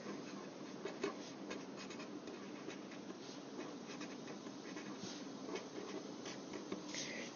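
A pen scratches out a scientific name by hand on paper, with soft, close, continuous strokes and small taps in a quiet room, and no talking.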